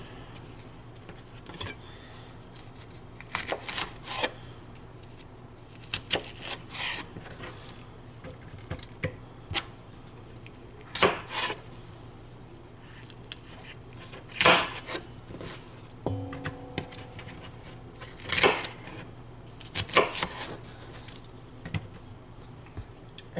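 A knife chops an onion into rough pieces for fajita kebabs, making irregular clusters of crisp taps on a cutting board separated by short pauses.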